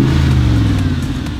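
Loud, close Mercedes-AMG G-Wagon engine holding a deep, steady rumble for a moment, with heavy low-end throb and no talking.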